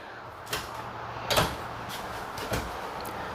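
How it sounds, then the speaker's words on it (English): Non-soft-close cabinet doors in a Jayco Eagle 335RDOK fifth-wheel RV shut one after another, three distinct knocks, the middle one loudest, against a quiet interior. "All your cabinet doors, they are not soft closing doors."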